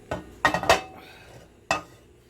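A pan clinks and scrapes on a stovetop as olive oil goes in for an easy brunch dish, a few sharp metallic knocks bunched together and one more after a brief pause, close and fairly quiet.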